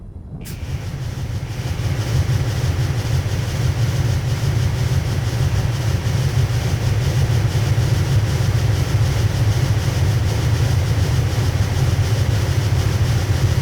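The coal-burning BR10 steam locomotive in Train Simulator on the Hamburg–Hanover route rumbles along in a constant low, heavy drone with faint rail clatter, continuous and loud with no speech.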